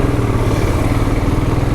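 A Royal Enfield Himalayan motorcycle engine runs loud and close with a steady, even drone and no voices over it.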